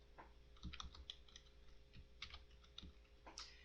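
Typing on a computer keyboard while coding a Flappy Bird score display in Unity, with scattered quiet key clicks in short irregular bursts, close and faint, with no speech.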